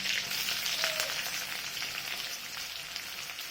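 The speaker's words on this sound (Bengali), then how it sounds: "পেঁয়াজ একটু ভেজে নেবো।" Chopped onion and chilli frying in oil, a steady close sizzle with soft crackling and a faint stir, no voices.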